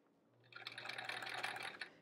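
A domestic sewing machine stitches quilt pieces for a sampler quilt block, its motor a steady close whir that builds after a quiet start and carries on with no talk.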